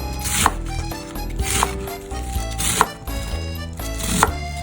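A knife roughly chops a quarter head of cabbage on a cutting board in four evenly spaced, crunchy strokes, loud and close, with background music underneath.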